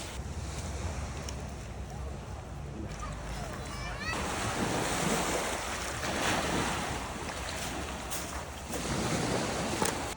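Sea waves washing onto the shore at Baniyas, a constant roar of surf with gusty wind buffeting the microphone, swelling louder partway through, with a voice briefly present.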